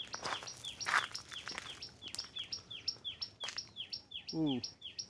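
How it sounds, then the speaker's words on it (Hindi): Birds chirp in a desert rock park: rapid, repeated high tweets in a steady rhythm, close and clear, with a few sharper calls and one buzzy note over a faint outdoor background. "चिड़िया दिखी इतने सालों बाद"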